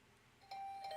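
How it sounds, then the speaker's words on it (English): A doorbell chime sounds in the video game Hundred Line: Last Defense Academy, a clear electronic tone ringing out twice over a low hum, loud and close. "Usual morning announcement was drowned out by the sound of my doorbell ringing over and over."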